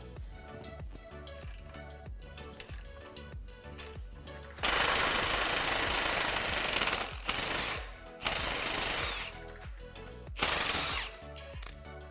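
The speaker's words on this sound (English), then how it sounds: "Using a 21mm socket, remove the lower track bar bolt." An impact wrench loosens the lower track bar bolt on a 2020 Jeep Gladiator during a suspension lift install, using a 21mm socket. It comes in loud, rattling hammering bursts that stop and restart, close up over a steady background hum.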